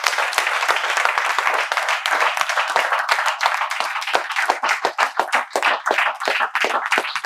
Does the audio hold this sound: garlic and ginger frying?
no